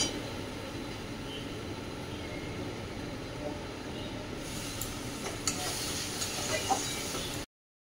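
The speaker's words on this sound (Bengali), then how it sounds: "এখন এই যে একটু আরেকটু জল দিয়ে মশলাটা কষে নেবো" Spice masala fries and is stirred in a pan as a soft, continuous sizzle with a few light scrapes near the end, fairly faint and steady.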